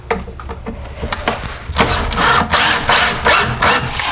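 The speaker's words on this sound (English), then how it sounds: "you're just going to drill 4 holes along the back edge" Wood being drilled with a power drill, four holes along the back edge of a kitchen butler's pantry shelf; close, loud whirring and grinding bursts, quieter and choppy at first, then a sustained stretch of heavier drilling.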